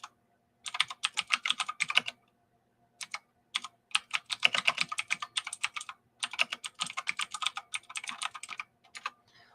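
Rapid typing on a computer keyboard, bursts of crisp close key clicks separated by short pauses, with no speech over it.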